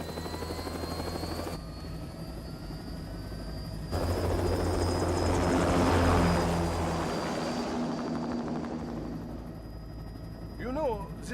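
An aircraft takes off in the Metal Gear Rising: Revengeance video game, with a steady, loud rotor-like engine roar that swells midway and then eases, accompanied by a rising whine.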